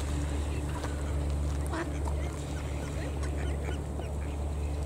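Ducks quack in short bursts close by in a Moscow park against steady outdoor background noise, with a voice talking softly at times.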